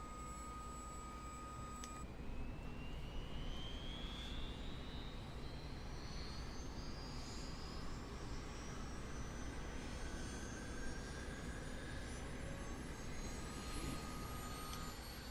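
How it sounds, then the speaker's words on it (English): A CH-47D Chinook helicopter engine starts up in a flight simulator game with a steady, loud turbine roar and a high whine that climbs slowly in pitch as the engine spools up, while faint beeps sound underneath. "Engine 1 start."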